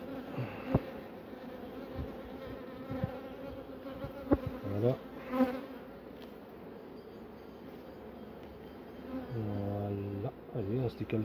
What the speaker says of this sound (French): on referme tout ça sans coincer les abeilles